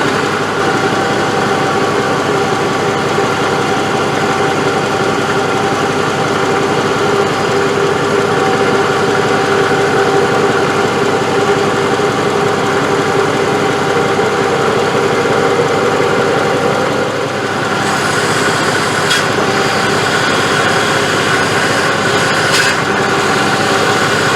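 Jeep Cherokee engine idling with a noisy power steering pump, a steady, close mechanical hum and whine that runs unbroken throughout, with a brief knock partway through.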